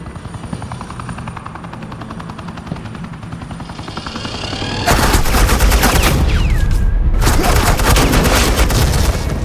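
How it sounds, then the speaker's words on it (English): Suppressing gunfire erupts in a Batman: The Enemy Within game scene, starting with a helicopter's rotor thrum and then switching to dense, loud continuous automatic fire with booms that cuts out briefly before resuming. "This is Agent Quinn, suppressing fire."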